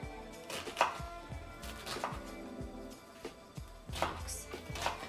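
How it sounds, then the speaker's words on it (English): Kitchen knife chopping an onion on a cutting board, cut lengthwise and then across, a run of close, crisp thuds in an uneven rhythm with short pauses between bursts of cuts. "So cutting the onion this way is the easiest way I've found to chop it"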